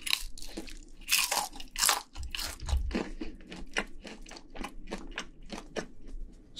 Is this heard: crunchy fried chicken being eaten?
yes